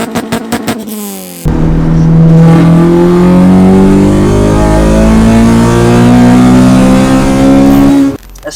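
A Honda Civic Type R with a Viper one-box aftermarket exhaust pulls hard, its engine note rising steadily in pitch through a long, loud rev after a brief idle burble, then cutting off abruptly.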